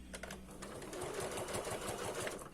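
Sewing machine stitching fabric for an appliqué pot holder, a fast even rattling run of needle strokes at close range, steady from start to finish with no voices.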